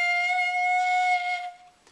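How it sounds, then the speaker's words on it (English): A clarinet mouthpiece and barrel blown hard so the reed vibrates, producing a single bright, buzzy sustained squeal that lasts about a second and a half before fading, alone and close. "Blow pretty hard. It takes a lot of air to make the reed vibrate."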